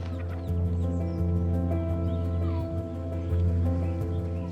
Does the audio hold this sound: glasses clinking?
no